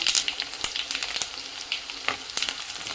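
White sesame seeds and garlic frying in hot oil, a steady close sizzle with sharp crackling pops scattered throughout, no voices.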